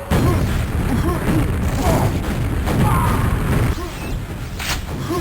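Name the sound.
rocket explosion in video game Quake dm4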